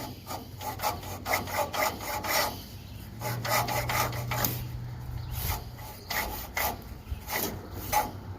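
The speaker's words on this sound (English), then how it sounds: "So that coil is duct taped and it's hitting on the flywheel." Small garden tractor engine, an Agway 1842 from 1984 built by Murray, with a duct-taped ignition coil rubbing against the flywheel, giving a continuous scraping, rasping mechanical chatter with a low motor hum underneath, steady and close.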